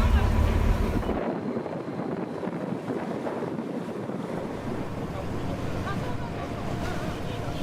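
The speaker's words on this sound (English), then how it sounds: "But the sea's pretty rough. It's about, 1 or 2 meter sized waves, maybe higher." Rough sea with waves of one to two meters or more surges around a tuna fishing boat off Oma, Aomori, Japan, a steady broadband wash with wind buffeting the microphone, loudest in the first second.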